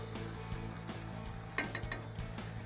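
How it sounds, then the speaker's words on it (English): Wild turkey with strawberries simmers in a pan on the stove, a steady close sizzle and bubbling with a few light clinks of a utensil stirring. "We're gonna let this simmer."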